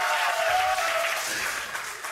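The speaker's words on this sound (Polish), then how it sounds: "Duże brawa!" A studio audience on the Polish Wheel of Fortune game show applauds a winning contestant in a thick, even wash of clapping that slowly tapers off, with no voices over it.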